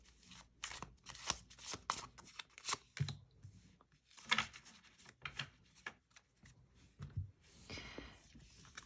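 Tarot cards shuffled and drawn from a deck, a run of close, crisp riffles, slaps and soft scrapes in irregular bursts with brief pauses between them.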